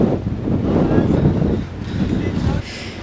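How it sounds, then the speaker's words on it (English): Strong, cold wind blusters outdoors near some stairs, a steady low roar of gusts buffeting the microphone throughout and easing slightly near the end. "So much wind."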